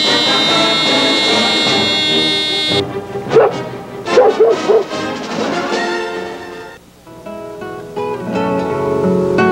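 Oreo, a hearing dog, gives a short burst of several close barks and yips over steady tonal background music, then falls quiet while the music continues.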